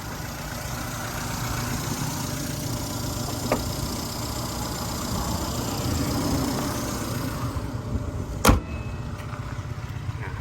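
A 2002 Ford Laser with a 1.6 petrol engine and automatic gearbox idles steadily and evenly, a continuous low rumble close by, with one brief sharp click near the end.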